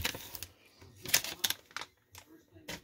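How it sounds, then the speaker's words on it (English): A trading card pack being torn open, from an old-school Jampacks box, gives bursts of crinkly paper and foil ripping with short gaps between them, close and moderately loud. "I'm going to try to rip this open a little bit"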